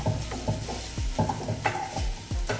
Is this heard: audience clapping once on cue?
no